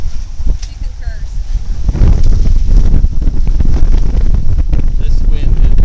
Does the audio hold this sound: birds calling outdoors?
no